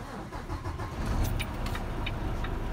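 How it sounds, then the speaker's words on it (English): A semi truck's diesel engine starting and settling into a steady, close rumble, with a few faint metallic clicks over the low drone. "So now I'm gonna start the truck"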